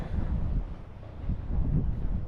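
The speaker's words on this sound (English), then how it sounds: "It's windy today." Steady low rumbling wind buffeting the microphone, gusting slightly louder toward the end, with no voices.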